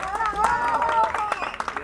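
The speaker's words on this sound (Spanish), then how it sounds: "el aplauso" Crowd applause at an amateur football event as a pennant is presented, a steady patter of many hands mixed with overlapping voices.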